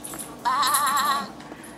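A voice imitates a sheep's bleat, one sustained wavering "baa" held for under a second, close and fairly loud in a quiet room.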